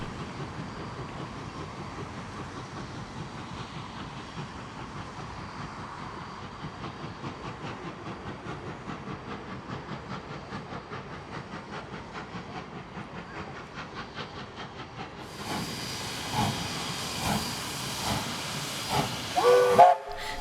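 Steam locomotive 3526 hauls its train through Kirrajard in dismal weather, its steady rhythmic chuffing building closer and louder toward the end, where a burst of hissing steam and a short whistle join in.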